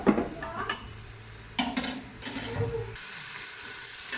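Ginger and garlic sizzling and frying in a pan for aloo matar, with stirring scrapes and a few clinks, steady crackle throughout, no talking.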